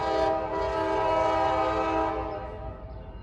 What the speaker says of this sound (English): there's a train coming on the, not this track, but another track